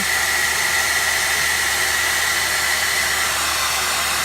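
A hair dryer roars continuously on high, powered by two generators running in parallel, a loud steady whooshing hum with no other sounds.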